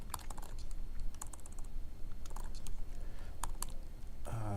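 Rapid clicking of computer keyboard keys as code is typed, steady and close with irregular bursts of keystrokes, no voice.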